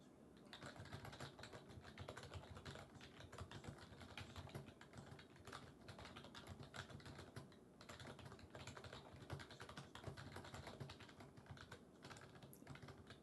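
Rapid, continuous typing on a computer keyboard, dense overlapping keystrokes clattering nonstop at close range and fairly quiet, with no voices.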